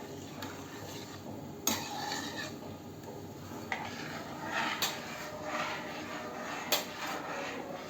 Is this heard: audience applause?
no